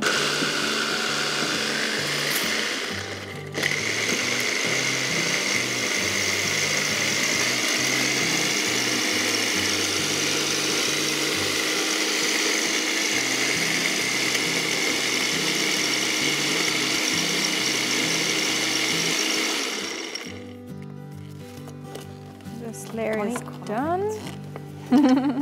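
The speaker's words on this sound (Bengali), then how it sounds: "আমি এদিকে বিস্কিটটা একটু গুঁড়ো করে নিই।" An electric grinder whirs steadily while crushing biscuits into crumbs, a loud continuous motor drone that stops briefly, runs on for about fifteen seconds, then cuts off, followed by quieter handling and voices.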